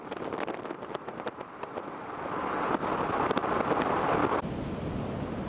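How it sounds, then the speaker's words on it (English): Ocean waves crash and roll onto the shore on the Icelandic coast, a loud continuous surf wash swelling and breaking with heavy wind buffeting the microphone, no voices present. "you really feel the power of the ocean as it's crashing on"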